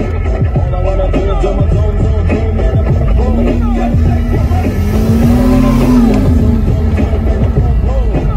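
A Porsche 986 Boxster engine revs up and settles back, a loud, close droning roar with a rising and falling whine midway, heard from inside the car with faint voices in the background.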